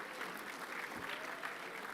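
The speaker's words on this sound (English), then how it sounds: "deserves an applause" A school assembly audience claps steadily for about two seconds, a dense, even patter of many hands heard from a distance and fairly soft, with no voices on top.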